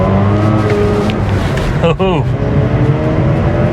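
A 2004 Mazda RX8 with a six-speed gearbox revs hard toward about 7,000 RPM, a loud, close, sustained engine roar with a brief dip and rising pitch partway through. A voice briefly exclaims.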